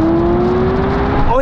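A Ferrari racing a Tesla passes close by, its engine note rising steadily in a single loud revving sweep for about a second before fading.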